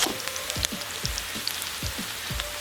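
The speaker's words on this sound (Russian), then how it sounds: "Сперва пассируем лук. До прозрачности." Onions sautéing in a kazan over an open campfire, a steady soft sizzle and crackle with faint low thumps, close and continuous for a few seconds without any voices.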